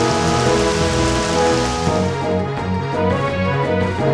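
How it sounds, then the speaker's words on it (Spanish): Rain begins in a Pokémon Stadium 2 battle: a dense, loud, steady hiss of rainfall on a surface runs throughout, lightly easing midway but continuing without a break. "¡Ha empezado a llover!"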